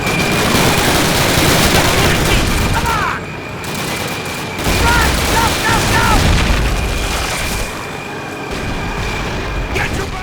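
Tanks and gunfire in the Call of Duty video game during the Battle of the Bulge: loud, continuous rolling booms and rattling machine-gun fire, with short dips in intensity and people talking through it.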